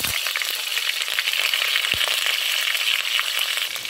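Frozen ground pork crackling and sizzling in hot oil in a pan, a loud steady fry with occasional scrapes and knocks of a spoon stirring close by.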